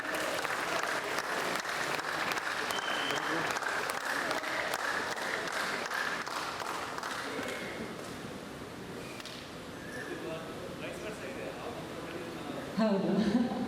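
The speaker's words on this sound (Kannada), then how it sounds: "ಜೋರಾದ ಚಪ್ಪಾಳೆ" A crowd at the 25th-day celebration of the film Krishna Pranaya Sakhi applauds loudly, a sustained wash of clapping lasting throughout and tapering a little toward the end, with voices mixed in.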